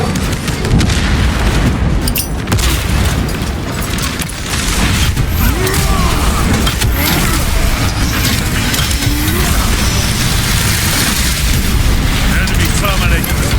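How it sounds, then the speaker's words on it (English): Crack grenade blast in Warhammer 40000: Space Marine 2 at max difficulty, a loud booming, crushing roar of detonation and debris that runs continuously through the scene amid dense battle noise, with a brief lull partway through. "Using crack grenade."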